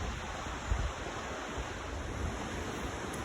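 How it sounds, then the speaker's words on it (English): Two rivers meeting, with flowing water making a soft, steady rush like distant surf or wind, faint and continuous with no voices. "We're kind of at a point where these two rivers come together."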